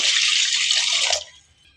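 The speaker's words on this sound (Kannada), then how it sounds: "ಈಗ ಒಂದು ಸ್ವಲ್ಪ ನೀರು ಹಾಕೋತಾ ಇದ್ದೀನಿ" Water pours steadily into a pot in a broad hiss for over a second, then tapers off abruptly into quiet; no voices.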